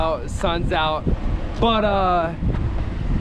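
Wind blowing outdoors by a river on a hot, humid day buffets the microphone with a steady low rumble beneath someone talking.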